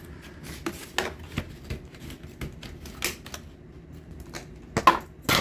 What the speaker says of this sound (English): Start cutting this basket just like we did the other one. Just going to cut right through.